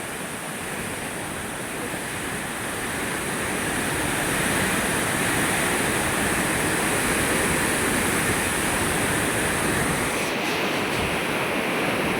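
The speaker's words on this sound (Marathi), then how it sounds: "हे गोदावरी तर पाणी बघा तुम्ही" The swollen Godavari river, running high after days of rain, makes a continuous broad rushing roar of flowing water that stays loud and steady throughout, with no voices.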